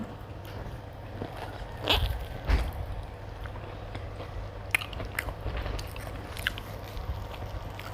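Someone eating Monthong durian plain, soft close biting and chewing with a couple of sharper bites early on, then quiet mastication over a steady low background hum.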